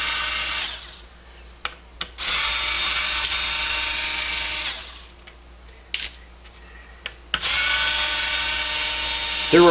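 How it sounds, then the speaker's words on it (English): Cordless power drill or driver backing screws out of a roller controller circuit board, several sustained high-pitched whirring runs broken by short pauses and clicks, close and loud. "Put screws to the side and then remove the screws over in here."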